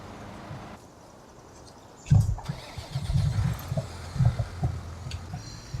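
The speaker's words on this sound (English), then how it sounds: "Alright, let's see if we can get the tractor in there somehow." A tractor engine in Farming Simulator 19 cranks and catches after a quiet stretch, then settles into a rough, throbbing idle with uneven revving pulses.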